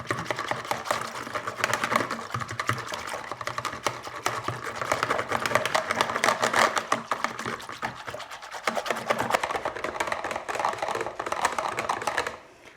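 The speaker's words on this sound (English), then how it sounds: "They take a lot of whisking." A whisk beats a thick rye sourdough starter into water in a bowl, a fast, steady rattling and clicking that carries on without a break for around twelve seconds, close and moderately loud, with no talking.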